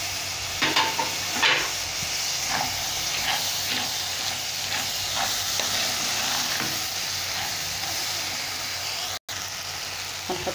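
Tomatoes, colored peppers and a hot pepper fry in a pan with a steady hissing sizzle, while a utensil scrapes and taps the pan in irregular strokes, close and fairly loud, with a brief dropout near the end.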